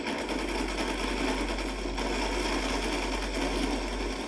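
Rapid, sustained automatic fire from a drum-fed light machine gun holding 71 rounds in a raft-based shooter game, a dense unbroken mechanical rattle with a steady low hum beneath, loud and continuous throughout.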